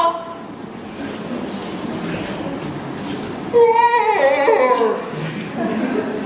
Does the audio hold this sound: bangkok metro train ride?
yes